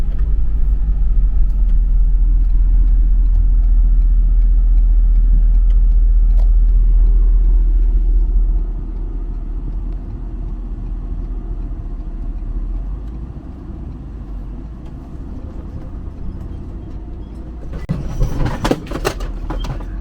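A 2023 Ford F650 truck held in second gear while rolling down a small incline, its engine a loud, steady low rumble that eases partway through, with a clattering burst near the end.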